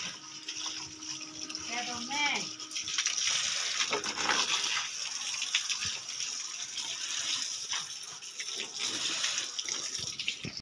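Tap water runs steadily into a sink as something gets a thorough wash, a continuous hissing stream with voices chatting over it in a home setting.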